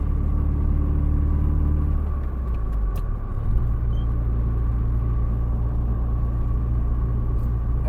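A Saab 9-5 Aero driving with a steady, loud engine and road rumble throughout, plus a brief thump near the middle, suggesting clunky drivetrain noises over the constant drone.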